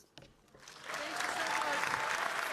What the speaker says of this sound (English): Once more, a big round of applause, everyone, to the people of Flow.